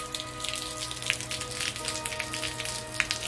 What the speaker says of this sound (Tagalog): Ulan, oh. Lakas ng ulan.